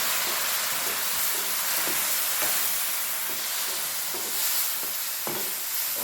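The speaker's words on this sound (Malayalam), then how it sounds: "ഇനി ഇതിലോട്ട് നമുക്ക് വിനീഗർ ഒഴിച്ച് കൊടുക്കാം." Vinegar splashes into anchovy fish pickle in a hot pan, giving a steady bright sizzle and frying hiss with faint stirring scrapes throughout, no voices.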